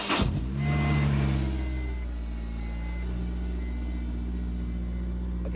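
A Honda S2000 with a loud aftermarket exhaust starts with a sharp crank and catch, swelling into a deep boomy rumble that settles into a steady, throbbing idle, close and alone.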